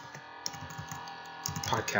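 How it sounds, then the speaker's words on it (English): Soft keyboard typing, a steady patter of key clicks under a quiet voice, growing a little busier toward the end. "if you hear me typing"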